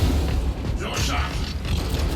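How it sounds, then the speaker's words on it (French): A weapon reloads in Warhammer 40,000: Space Marine 2 with mechanical clicks, creaks and ratcheting clunks, close and moderately loud over a rumbling game background, with a voice speaking nearby. "Je recharge."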